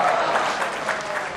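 An audience at a Hindi shayari poetry recital claps continuously, a dense, steady burst of applause from a crowd with no talk over it.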